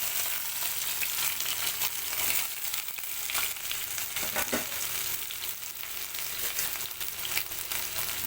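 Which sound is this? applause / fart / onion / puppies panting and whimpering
onion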